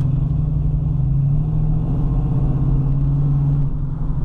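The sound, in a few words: 1970 Ford Mustang Coupe engine accelerating through gears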